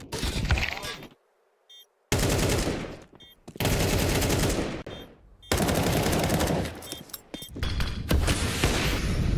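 AK rifle fire from Counter-Strike 2, loud bursts of automatic shots broken by short silences, with a voice speaking among the shooting.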